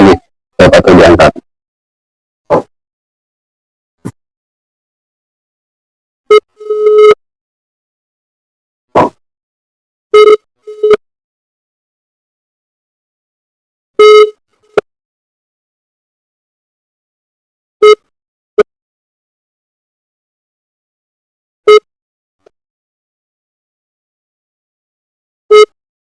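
Indonesian phone ringback tone repeating in evenly spaced short beeps over a quiet line, the call ringing on without being answered; a brief burst of noise at the start.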